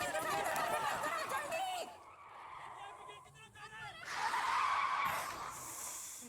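A speeding car in a film chase skids hard with a loud tire screech, the noise drops away briefly, then surges back with another skid and impact rumble, with speech in Hindi mixed underneath.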